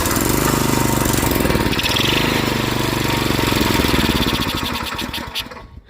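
A small engine that had sat too long, with a splash of gas poured down the bore, roars to life loud and close, runs roughly for several seconds while heavily choked, then sputters and dies.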